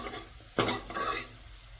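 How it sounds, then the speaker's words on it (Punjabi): Cumin, asafoetida, garlic and ginger hit hot oil for a tempering, giving a sudden loud sizzle with stirring and scraping in the pan, then a steady crackle that fades slightly. No talking is heard. "ਬਸ ਜੀਰਾ ਹਿੰਗ ਪਾ ਕੇ ਲਸਣ ਅਦਰਕ ਪਾ ਲਿਆ"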